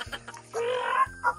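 A newly acquired chicken being given feed: a quick run of close, short clucks followed by a drawn-out, rising squawk and a couple more clucks, all within a second and a half.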